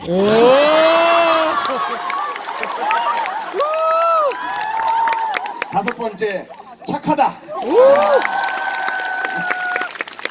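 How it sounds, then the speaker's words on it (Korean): Audience applause and cheering break out around a talk show conversation with a singer and a lawmaker, with crowd noise and claps rising under and between lively speaking voices. "그냥 뭐든지 박수 치고 있어"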